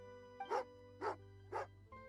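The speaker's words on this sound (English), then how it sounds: "What are they called? Huskies." A husky barks in Genshin Impact's snowy Snezhnaya region, three evenly spaced, clear woofs over a soft steady musical background, close and distinct, with no talking.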